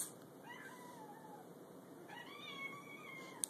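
A house cat gives two drawn-out, rising meows, each about a second and a half long. They are faint and come over quiet room noise, with no speech.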